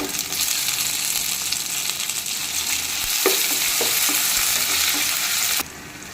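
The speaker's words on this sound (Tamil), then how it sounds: "இப்போ இது கூட நறுக்கி எடுத்து வச்சிருக்க தக்காளி ஆட் பண்ணி நல்லா கிளறி விட்டுக்கலாம்." Tomatoes and onions frying in a pan, stirred with a spoon: steady close sizzle with a few scraping knocks of the utensil, continuous for several seconds, then the frying drops a little quieter near the end; no talking.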